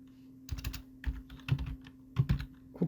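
Typing on a computer keyboard: short bursts of close, crisp keystrokes in uneven clusters over a faint steady hum.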